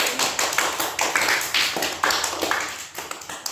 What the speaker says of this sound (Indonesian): Saya apresiasi, tepuk tangan untuk kalian semua.